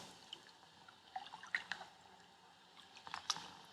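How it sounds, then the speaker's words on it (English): Couscous rinsed in a bowl of water, with quiet scattered drips, splashes and squishy stirring sounds, soft and close, no talking. "I have a measured amount of couscous right here, and I'm going to put it into 3 times as much water."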